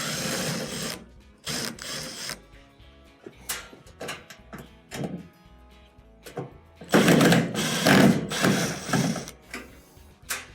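Phillips screws being backed out of the front of a GE washer's top panel, with bursts of mechanical whirring and ratcheting clicks alternating with quieter gaps, close and fairly loud.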